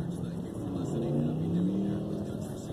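A car nearby accelerates hard away from a red light, its engine note rising steadily over about a second, heard from inside a stopped pickup truck under a low background hum.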